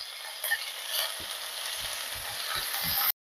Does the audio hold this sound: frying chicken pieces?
yes